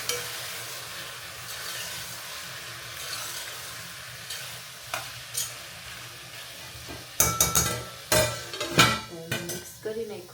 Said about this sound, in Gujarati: તો આપણે એકવાર મિક્સ કરી નાખીએ દૂધી બટાટાનું શાક.